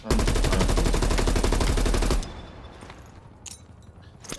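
Loud, rapid automatic gunfire from Call of Duty: Black Ops Cold War blasts in a sustained burst for about two seconds, then cuts off, leaving quieter game ambience with a few faint distant shots.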